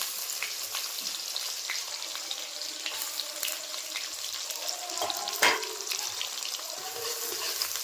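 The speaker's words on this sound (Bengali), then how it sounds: "পেঁয়াজটা বেশ কিছুক্ষণ ভেজে নেবো" Chopped onions frying in oil with whole cumin and slit green chillies, a steady close sizzle running throughout, broken by a few scraping stirs and one sharper clatter midway.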